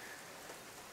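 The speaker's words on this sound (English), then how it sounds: "yet again, caught out with the rain" Rain falling outdoors where an electric vehicle charger is being fitted, a steady, even hiss of drops on surfaces, moderately quiet and continuous for the whole second with no voices.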